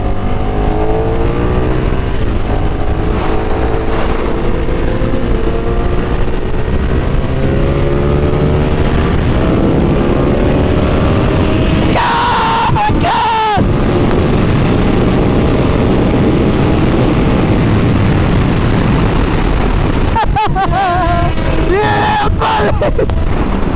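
A KTM SuperDuke motorcycle engine roars steadily throughout a ride, its note rising and falling through revs, loud and close with wind rush, plus a couple of sharper throttle blips.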